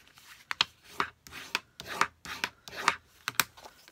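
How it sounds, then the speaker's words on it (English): Paper card bases being burnished for a distress ink project, heard as a series of close, rhythmic rubbing strokes, each a short dry rasp repeated steadily about twice a second with no talking. "I'm going to go ahead and burnish these card bases."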